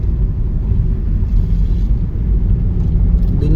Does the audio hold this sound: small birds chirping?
no